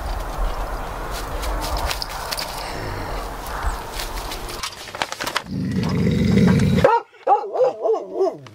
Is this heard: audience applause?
no